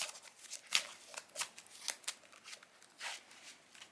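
A deck of trading cards riffled and shuffled by hand, a run of quick papery flutters and snaps repeating over several seconds, close and fairly quiet.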